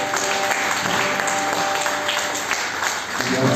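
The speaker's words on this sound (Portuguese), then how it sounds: "Você pode aplaudir o Senhor nessa noite" Church congregation applauding during an evening worship service at Lagoinha Horto, a dense, steady wash of clapping that stays loud and even throughout with no pauses.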